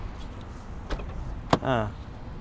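A Mini Cooper SE electric car door with frameless windows is unlocked and opened: a sharp click, a brief second clunk, then a short whirring as the window glass drops, heard close against low background noise.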